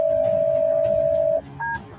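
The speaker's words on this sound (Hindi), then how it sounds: "तुरंत ही रंजन को फोन घुमा दिया" A telephone being dialed, one long steady tone followed by a short dual-pitched keypad beep, clear and close with no speech.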